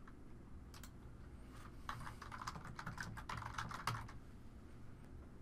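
Quiet typing on a computer keyboard, a short burst of quick, uneven key taps lasting a few seconds before trailing off into faint background hiss.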